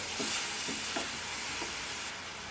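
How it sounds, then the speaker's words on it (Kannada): Chopped onions with salt fry in a pan for onion gojju, a steady hiss of sizzling with a few light scraping stirs, close and even throughout. "ಸ್ವಲ್ಪ ಇದು ಚೆನ್ನಾಗಿ ಫ್ರೈ ಆಗಲಿ"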